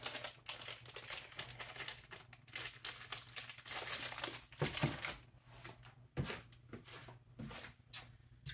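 A plastic bag of white chocolate crinkles and rustles as it is handled and opened, a run of close, irregular crackling bursts at low level with no talk.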